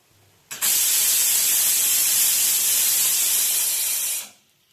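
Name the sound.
pressure cooker whistle while cooking bisibele bath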